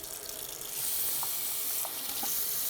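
A shower head with hard-water buildup is rinsed under a running tap, a steady splashing hiss of water that grows fuller after the first second, with a few small drips and clinks.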